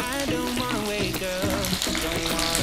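Green chili peppers blended for sambal ijo sizzle and crackle as they fry in a hot pan, a loud and steady sound with no talking.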